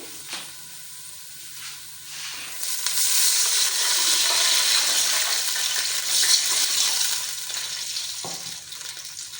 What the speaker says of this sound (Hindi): अब हम इसमें पानी ऐड कर लेंगे।